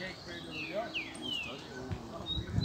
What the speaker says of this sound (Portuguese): criatório de pombo correio